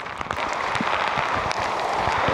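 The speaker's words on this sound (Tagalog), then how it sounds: "lakas pa rin po na ulan" Heavy rain falling steadily, a dense hiss of drops with scattered sharper patters close by, continuous and fairly loud throughout.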